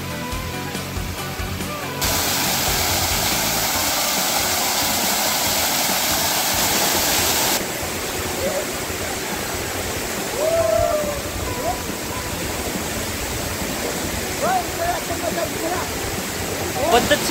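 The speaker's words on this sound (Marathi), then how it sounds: "धबाबा कोसळणाऱ्या त्याच्या पाण्याचा आवेग महादेवासारखाच रौद्र, पण प्रवाह पार्वतीसारखा संयत होता." Water of the Mahadev waterfall crashing down steadily in a forest during monsoon rain, a loud continuous roar with splashing throughout, brief gurgles and a voice faintly audible near the end.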